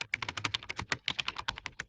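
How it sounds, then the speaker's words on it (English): Keys on a gaming keyboard clack in a quick, uneven burst of about twenty crisp strokes, close and moderately quiet, with no voices. "Typing with gaming key."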